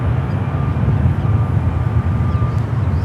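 An Alaska Airlines jet taking off at San Francisco airport, a loud, steady jet engine roar with deep rumble filling the background throughout.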